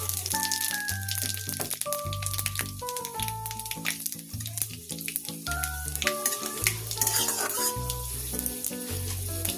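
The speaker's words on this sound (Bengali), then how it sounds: "এই শুকনো লঙ্কা আর 5 ফোড়নটা" Panch phoron and dried red chillies spit and crackle loudly in hot oil, a dense sizzle layered under tonal background music.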